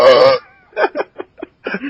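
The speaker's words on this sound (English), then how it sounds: "He's like struggling to burp now." A loud, close, drawn-out burp opens, followed by a few short voiced sounds and murmurs.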